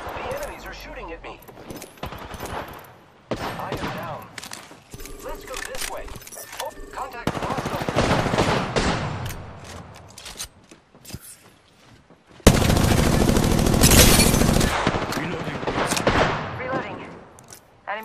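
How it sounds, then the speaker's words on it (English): Enemy gunfire in The Hired Gun video game, bursts of rapid shooting and impacts in uneven waves, loudest in a dense stretch near the end, with a voice talking between the bursts. "The enemies are shooting at me."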